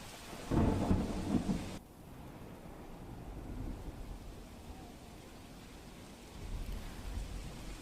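Heavy monsoon rain pours steadily in Morbi, with a loud, close thunder crack near the start and low rolling rumbles continuing under the constant downpour; no voices.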